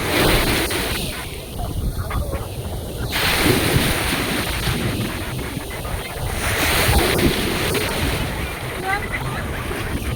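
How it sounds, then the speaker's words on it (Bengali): Ocean surf breaks and washes up onto Snehatheeram Beach in Kerala, a steady roar with surging swells, mixed with gusty wind buffeting the microphone throughout. "আমরা এখন ঢেউ খাচ্ছি"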